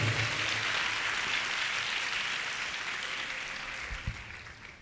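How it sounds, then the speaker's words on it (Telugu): A church congregation at a Telugu Pentecost service claps together in praise of the Lord, a steady, dense wash of hands heard at moderate distance and gradually softening. "చప్పట్లు కొట్టి ప్రభువుని మహిమపరుద్దాం"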